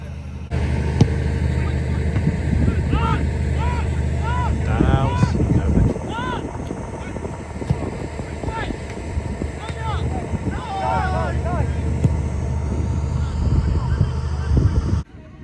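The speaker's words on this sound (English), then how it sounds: "the wind is picking up and it's doing my hair absolutely no favours" Strong wind roars continuously outdoors behind the goal at a football match, buffeting the microphone, with voices in the background throughout.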